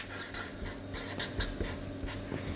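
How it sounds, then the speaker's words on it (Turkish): Handwriting a word with a pen or pencil on paper, a close series of short scratchy strokes in an irregular rhythm, quiet and alone. "Hemen ilk kelimemi yazıyorum."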